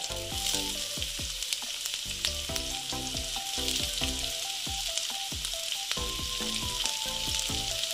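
Onion dropped into hot oil with capsicum, loud continuous sizzling and crackling with stirring scrapes throughout, close by and with no speech.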